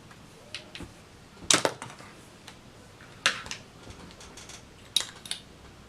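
Cosmetic foundation packaging gives a few sharp, quiet plastic clicks, about three distinct snaps spaced over several seconds with faint handling noise between them, close to the microphone, with no voices.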